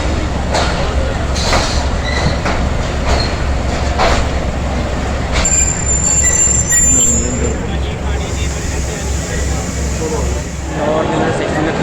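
Passenger train from Karachi pulling into a railway station, wheels squealing against the rails over a steady low rumble, with crowd noise and voices talking throughout.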